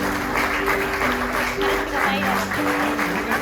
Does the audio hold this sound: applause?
yes